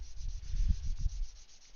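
Sandpaper rubbing on a plastic Gundam model kit part in quick, steady back-and-forth strokes, close by and fairly soft, with no talking.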